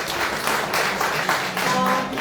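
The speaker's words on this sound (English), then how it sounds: "Can we have a big round of applause?" Book launch audience applauding together in a room, a short dense wash of clapping that holds steady at moderate loudness throughout.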